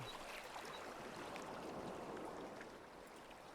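Flowing creek ambience from the Daggerfall Unity game, named Whispering Creek: an even, hissing rush of running water with faint gurgles, constant throughout and dipping slightly toward the end.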